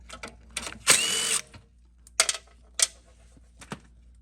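Ratchet wrench loosening the two 3/8-inch carburetor bolts on a Craftsman lawn mower: a dense burst of ratcheting clicks, then a few sharp separate clicks and taps, close and fairly loud with no talking.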